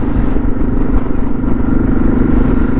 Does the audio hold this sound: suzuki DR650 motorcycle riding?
yes